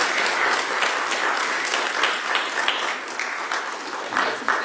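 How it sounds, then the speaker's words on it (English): A church congregation applauds to welcome new members during a Sunday service, a dense, continuous wash of many hands clapping at steady loudness throughout, with no talk over it. "And so we just welcome them with applause right now."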